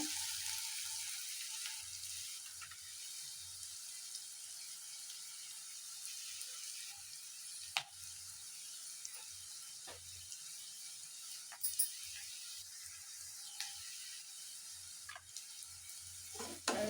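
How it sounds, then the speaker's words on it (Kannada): Soya fried rice ingredients sizzle softly in a pan while a spatula stirs with quiet, irregular scrapes and ticks. The sound is faint and steady, with no talking. "ಸ್ವಲ್ಪ ಫ್ರೈ ಆಗಲಿ ಅದು"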